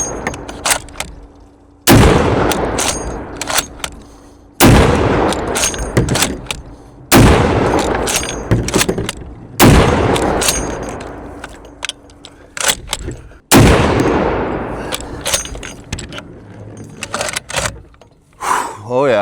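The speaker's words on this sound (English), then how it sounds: "Might shoot that with some API just to see what happens." Auto Ordnance TAO 50 rifle firing API rounds at a steel target, with about seven heavy, booming shots spaced a few seconds apart, each followed by a long rumbling decay, and voices in between.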